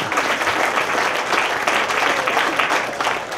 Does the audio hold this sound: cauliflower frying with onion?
no